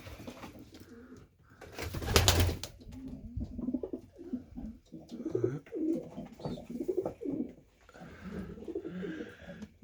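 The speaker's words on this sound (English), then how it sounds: "the birds are out there enjoying the aviary" Pigeons or doves coo softly and repeatedly in an outdoor aviary on a frozen winter day, with one brief loud rustle or flutter partway through.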